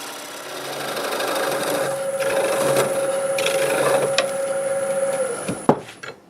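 A wood lathe spins a black walnut turning near 1,000 RPM, giving a steady whirring hum with a sustained tone and light tool rubbing, ending in a couple of sharp knocks.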